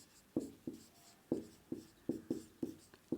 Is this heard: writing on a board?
yes